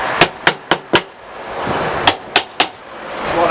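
Metal hammer blows tapping a wedge into a flood barrier: four sharp, loud strikes in quick succession, a pause, then three more, each ringing briefly against an outdoor background.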